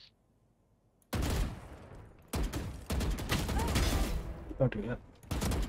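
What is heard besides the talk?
gunshots in the video game Valorant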